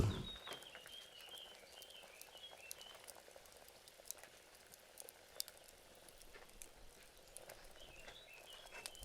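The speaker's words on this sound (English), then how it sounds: "We cook the chickpeas in salted water with olive oil, a bit of white wine and cumin." Chickpeas simmering in a pot of salted water with olive oil, white wine and cumin, a faint, steady bubbling patter with small pops scattered throughout, quiet and continuous.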